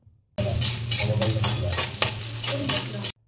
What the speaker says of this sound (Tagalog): Igisa natin ang bawang, sibuyas at kamatis.